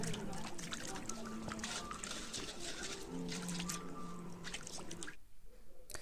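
Beef trotters are rinsed in lukewarm water, with continuous splashing, trickling and squishing from handling close up, under a faint voice.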